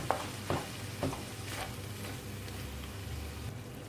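A spoon stirs liquid cream into mushrooms in a pan, a few soft scraping strokes at the start over a low, steady sizzle, close and fairly quiet.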